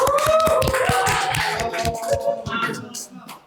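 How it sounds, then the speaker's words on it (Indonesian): Close, fairly loud hand claps from a small group for a podcast guest, sharp and uneven at first, thinning out over a few seconds, with voices talking over them. "Boleh tepuk tangannya dulu"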